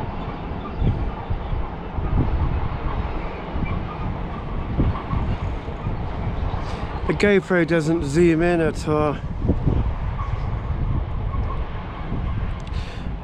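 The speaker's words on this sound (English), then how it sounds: "There's a freight train rumbling by." A low rumble of a passing freight train, a Class 66 locomotive pulling rattling wagons, under someone talking close by; a brief tonal squeal rises midway.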